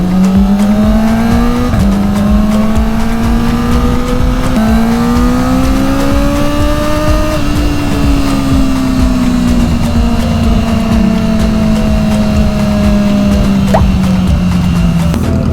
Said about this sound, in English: Man, the auto blip is so nice on this bike.